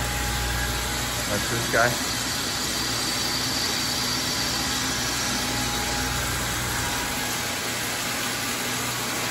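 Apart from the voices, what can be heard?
high pressure pump and recirc pump of reverse osmosis machine running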